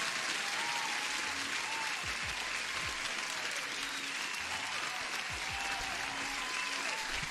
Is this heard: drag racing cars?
no